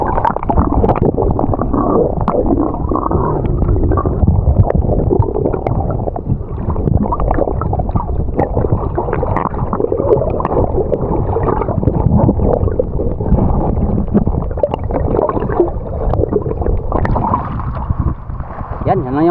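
A camera dipped into the Pacific Ocean off Samar picks up loud, muffled underwater rumbling and gurgling water, a dense low churn that runs without pause.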